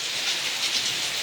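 Heavy morning rain pours steadily, with water running off a terrace; a dense, even hiss fills the short stretch with no voices.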